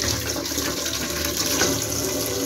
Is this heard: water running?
yes